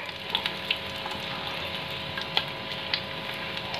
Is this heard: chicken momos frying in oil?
yes